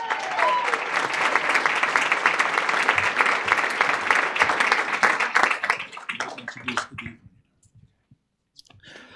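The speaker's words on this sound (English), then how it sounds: "Everybody give a round of applause to Bart Patterson." An audience at a Latin Chamber business luncheon breaks into loud, dense applause that holds for about six seconds, then thins to scattered claps and fades to near silence.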